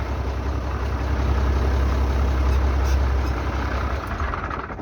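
Tractor engine idling in a soybean field, a steady, loud low rumble that holds evenly throughout with no voices over it.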